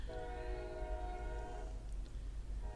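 Freight train hauling car carriers passes at a distance, with a sustained multi-tone horn blast over a low rumble of rolling cars, the horn cutting off partway through.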